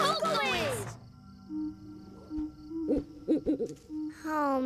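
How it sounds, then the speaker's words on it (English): Owl hooting in a children's animated train cartoon, a run of short rhythmic hoots at mid volume after a character speaks, with voices talking before and after. "Oh, Mr. Owl"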